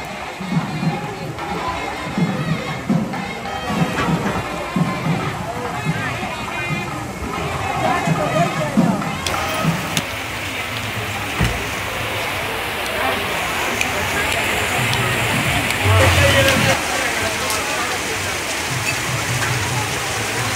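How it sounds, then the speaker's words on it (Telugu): Steady rain falls in an outdoor setting with a continuous wash of drops, while a person talks over it for much of the time. "వర్షం పడుతుంది."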